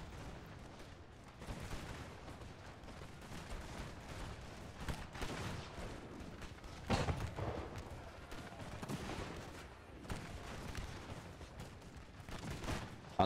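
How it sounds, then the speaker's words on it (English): Musket volleys and cannon fire in a Napoleon Total War battle, a continuous rumbling fusillade of distant crackling shots and heavy booms swelling and fading. "Have you guys opened fire?"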